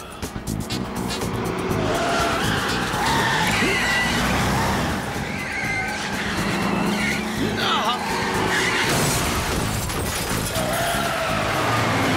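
A cartoon car speeding in a chase, its engine roaring loud and close with squealing, skidding tires over a busy animated soundtrack, while voices talk over it.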